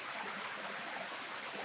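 A river flows below a hillside village near Sum in Himachal's Tirthan Valley, heard as a steady, close rushing wash of water with no voices.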